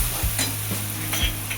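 Onion-garlic masala, ginger-garlic paste and turmeric fry hard in a pan for a village-style black peas curry, a loud continuous sizzle broken by rhythmic scraping strokes as the spoon stirs.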